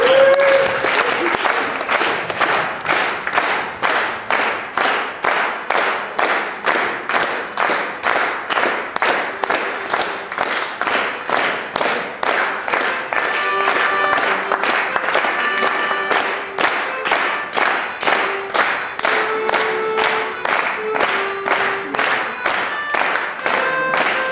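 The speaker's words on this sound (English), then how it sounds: "Can we get some clapping?" A crowd claps together in a steady, even rhythm, loud and sustained for the whole stretch, with a few scattered voices underneath.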